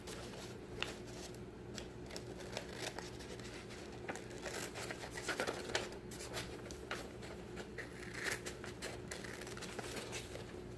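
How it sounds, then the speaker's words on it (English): Scissors snip through a section of paper map in a quiet room, giving soft repeated cuts and rustles close by. "I'm going to cut a 3rd section of my map"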